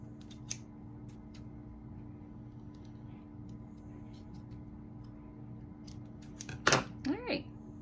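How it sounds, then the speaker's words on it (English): Paper scissors snip through craft material for a butterfly hair clip, making a few sparse, crisp cuts in a quiet room. The last snips, near the end, come through louder and closer. "So I actually have my paper scissors here."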